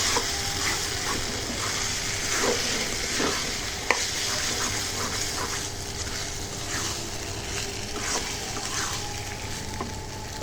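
Beef tripe being stir-fried in a pan, a steady close sizzle of frying broken by repeated scraping strokes of a spoon stirring, with one sharp knock near the middle.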